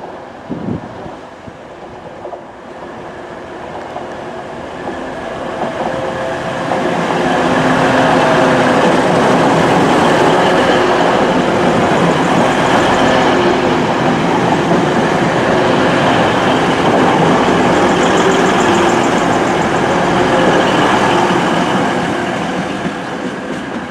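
A train rumbles through Ashbury Station on the Woodhead Route in pouring rain, building from a distant approach to a loud, sustained roar of rolling wheels, then slowly easing off.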